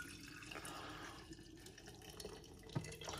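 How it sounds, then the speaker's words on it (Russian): Water trickles and splashes softly over green tea leaves in a vessel, a faint, steady pour heard close up with no talking. "Заливаю водой."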